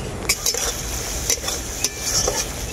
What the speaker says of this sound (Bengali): সরষে বাটাটাকেও আমি খুব ভালো করে কষিয়ে নেব।